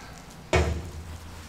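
A single sharp clunk of a Harbor Freight U.S. General six-drawer metal roll cart drawer being unlocked and pulled open, close and loud, followed by a brief low rumble as it slides.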